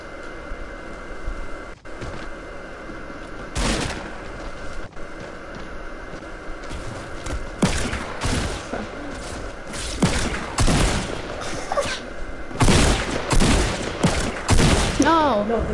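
Repeated bursts of gunfire in Fortnite, scattered shots and rapid volleys spread across the clip, with louder clusters toward the end over steady game background noise.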